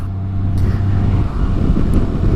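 A 2018 Honda Goldwing Tour DCT engine revving with a light touch on the throttle, a loud close low drone that swells slightly, with no talking.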